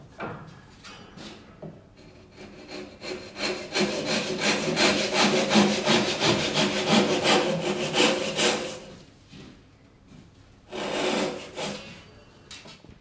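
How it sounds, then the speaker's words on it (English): A Japanese ryoba saw with coarse rip teeth makes a slightly angled rip cut along the grain of a wooden workpiece, rapid rhythmic rasping strokes building and then pausing, followed by a brief second burst, close by and without speech. "The first cut is a slightly angled rib cut."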